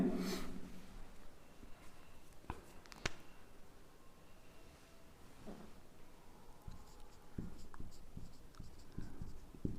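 Pen scratching out an example on paper during a Hindi grammar lesson, steady close strokes and taps running alone for about ten seconds with no talking.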